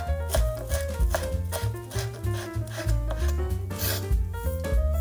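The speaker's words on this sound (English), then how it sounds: "take 1 carrot and rub it on a coarse grater" A whole carrot is rubbed against a coarse grater in a steady run of rasping strokes, close and clear with no talking.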